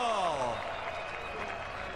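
Crowd at a Kentucky mile-and-a-half oval cheers and applauds for the return of the Camping World Truck Series, a broad steady roar of clapping and cheering over a falling tone that fades in the first half-second.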